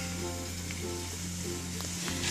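Sloppy joe meat and tomato mixture sizzling steadily in a pan, a continuous close hiss with a low hum beneath and no talking.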